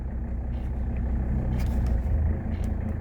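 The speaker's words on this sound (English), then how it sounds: "If you turn it clockwise, it's going to actually lower the RPM." A 1979 Mercedes 300SD diesel engine idles nearby with a steady low rumble as its RPM is adjusted lower, along with a few faint clicks on top.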